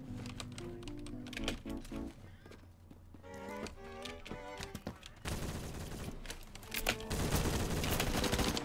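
Rapid gunfire in the Phantom Forces video game, clusters of sharp repeated shots and bursts, getting denser and louder toward the end.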